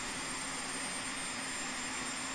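A Boeing 737-300 jet in the X-Plane 10 flight simulator takes off, its engines making a steady, even broadband roar with no voices over it.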